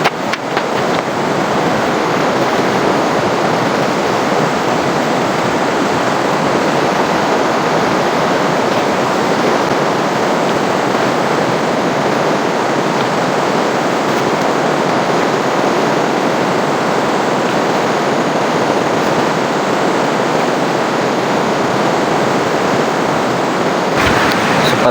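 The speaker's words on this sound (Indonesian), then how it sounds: "Sepertinya airnya tambah besar mas bro, suara gemuruh airnya juga." Roaring floodwater rushing in a swollen river, a loud continuous broadband roar that holds steady throughout, with no voices.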